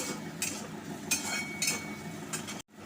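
Garlic sautés in oil as it is stirred, a close hiss with a few brisk scraping strokes of a utensil against the pan, ending in a brief dropout.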